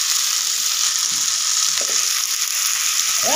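Spice paste frying in a pan as turmeric goes in gives a steady, close hiss and sizzle, with a few faint scrapes from stirring near the end.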